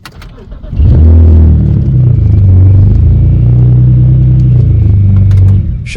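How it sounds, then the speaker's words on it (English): A 2006–2011 BMW 3 Series engine cranks and fires up, then settles into a loud, steady idle rumble heard close by, the start rising sharply after a brief quiet lead-in. "Insert the key into the vehicle key slot and start the engine."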